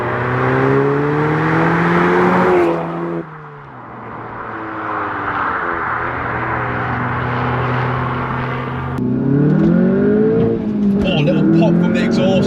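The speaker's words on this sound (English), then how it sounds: "Pop from the exhaust." Modified Audi S1 hatchback engine pulling hard with strong rising and falling revs, a shift near three seconds and renewed acceleration later, loud and close from inside the car, with crackles of exhaust pops near the end and a voice talking over it.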